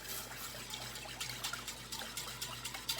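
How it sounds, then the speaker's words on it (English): Pastry cream being whisked in a pan as it heats toward a boil, with a continuous wet, sloshing stir and a faint steady hum in the background, no talking. "Now we are going to start whisking"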